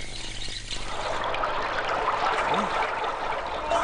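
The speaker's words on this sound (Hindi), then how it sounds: "पानी का झरना।" Water from a forest waterfall pours and trickles in a steady, broad wash that holds even throughout, with a faint low hum underneath.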